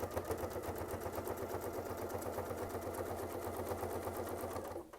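A sewing machine runs steadily while stitching a quilt border with double batting, a fast, even mechanical chatter that holds for several seconds and cuts off at the end.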